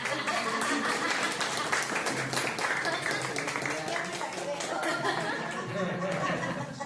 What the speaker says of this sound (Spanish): vamos a dar una aplauso